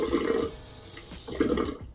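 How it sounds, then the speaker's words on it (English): Tap water runs briefly to wet a makeup brush before applying a charcoal turmeric face mask, a soft splashing stream that swells, dips, then returns before cutting off, heard alone in a quiet early-morning room. "Initially, I do wet my brush with water"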